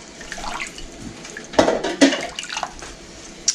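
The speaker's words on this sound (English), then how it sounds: "I'm going to add some water here to it as well." Water poured into a pot of Tuscan soup that is simmering on the stove, a splashing pour of a few seconds that swells in the middle and then tapers off.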